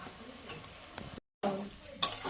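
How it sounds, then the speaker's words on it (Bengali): Spice masala for fesha fish curry frying in a pan, with a soft sizzle and scraping stirs, a short dead-silent gap in the middle, then a sharper clatter of the utensil near the end. "ভালো করে কষিয়ে নেব"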